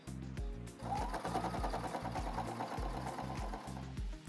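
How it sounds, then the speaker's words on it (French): Sewing machine stitching fabric pieces together for a colour-block garment, a steady rapid mechanical whirr with rhythmic needle thumps running continuously for several seconds, close and fairly loud. "je vais passer à la machine pour les coudre ensemble"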